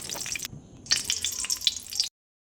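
Two spoons of ghee sizzle in a pan for tempering a homemade chicken green masala, giving soft crackles and scattered spits with a brief lull, then cutting off abruptly into silence.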